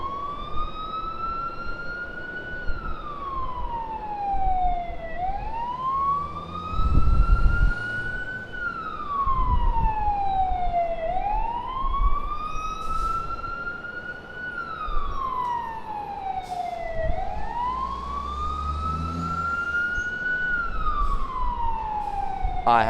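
A wailing emergency siren sweeps slowly up and down in long repeating cycles, loud and near, near Sydney Airport, while traffic rumbles underneath.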